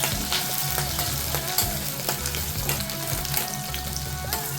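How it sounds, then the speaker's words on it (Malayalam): Curry leaves, ginger, garlic and green chili sizzle steadily in hot oil for a lime pickle while being stirred, with a soft scraping of the spoon recurring through the close, even frying hiss. "കറിവേപ്പില, ഇഞ്ചി, വെളുത്തുള്ളി, പച്ചമുളക് ഇതെല്ലാം ഇട്ടതിന് ശേഷം ഇളക്കുക."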